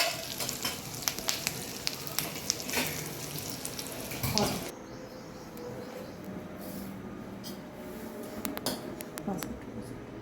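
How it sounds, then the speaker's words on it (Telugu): A hot-oil tempering with curry leaves is added to a raw mango, green chilli and spinach chutney. It gives a steady, close sizzle with faint utensil clinks, and the sizzle softens after about five seconds. "అదిగోండి తాలింపు ఈ చట్నీలో వేసేసాను"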